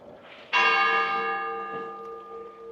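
A church bell in the Spanish town of Biar strikes once loudly near a small fountain, its rich ringing overtones sustaining and slowly fading over a couple of seconds.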